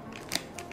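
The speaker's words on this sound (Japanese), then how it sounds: "ハサミでいきましょう" Kitchen scissors snip through a fish where a knife struggles with the hard parts, giving one sharp crunching cut midway and a fainter second snip near the end, close and quiet.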